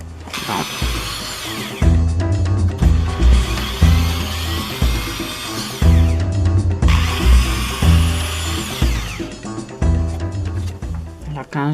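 Holes are being drilled into a cardboard bird feeder, with loud, busy power-drill whirring in two long runs broken by short pauses and clattering, up close and dominating the scene.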